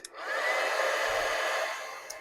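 A steady, loud blowing whir of an embossing heat tool runs continuously for a couple of seconds, with small clicks at the start and end.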